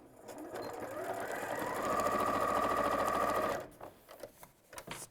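A domestic sewing machine stitches a shirt seam in a steady, whirring run for a couple of seconds, then stops, leaving soft handling noises of fabric being smoothed.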